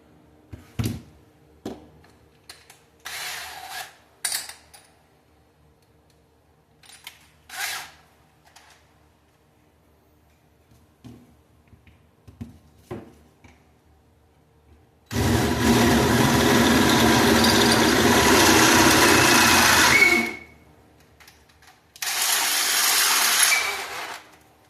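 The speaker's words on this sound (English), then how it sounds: "I'm gonna try to bore this hole out here to try to make it fit this bolt" A drill with a sharp bit bores out a hole on a homemade tire siping tool to fit a bolt. Quiet handling clicks come first, then a sustained five-second whirring burst and a shorter second run.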